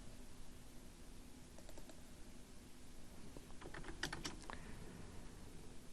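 Keys on a computer keyboard clack quietly while accounting data is entered, scattered single taps building to a brief cluster of quick strokes, close and soft with no voice over them.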